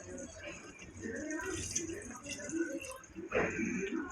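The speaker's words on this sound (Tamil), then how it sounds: "இதில் 1 கிளாஸ் தண்ணி ஊற்றிக்கலாம்." Water from a glass pours and splashes into a pot of mutton biryani being cooked in a pressure cooker. The splashing rises in a loud burst late on, and talking can be heard through the pour.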